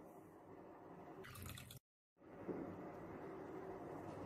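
Water is poured onto washed lentils in a pot to boil them, a steady splashing fill broken by a short gap of silence partway through, then continuing.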